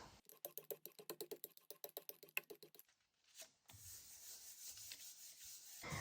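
Paper being rubbed by hand over a Gelli plate to pull a yellow ochre print, a rapid series of rhythmic close scrubbing strokes, then a pause and a steadier softer rubbing hiss.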